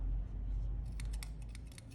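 Scissors snipping the yarn hair of a handmade fabric rag doll, a few crisp close snips in quick succession over a low steady hum.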